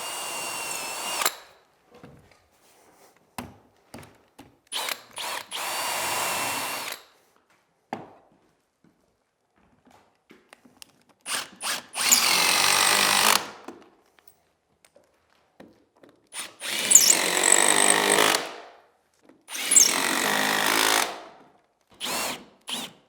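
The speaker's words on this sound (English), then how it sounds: "Pre-drill 3/16 bit drill bit." A power drill fitted with a 3/16-inch bit pre-drills holes for a cable railing post, whirring close up in several bursts of varying length, separated by pauses with light clicks and handling noises.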